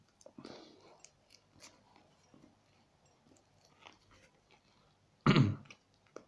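Burgers are chewed softly and up close in quiet, intermittent wet bites, with one louder throat-clearing burst near the end.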